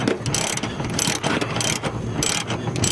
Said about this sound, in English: He's pulling the bolts out the top of the strut there.